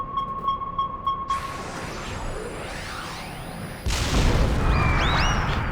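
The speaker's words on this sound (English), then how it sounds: "So many explosions!" Electronic beeps lead into a sustained whooshing rumble, then a loud booming burst and crackling blasts with rising synthetic tones during the Alexander boss fight in FFXIV, heard alone without talk.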